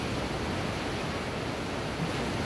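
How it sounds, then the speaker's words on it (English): Rough ocean surf crashes over rocks on the coast of El Salvador, a loud, dense, unbroken wash of roaring water close by with no voices. "The waves hit the rocks, fly over the rocks"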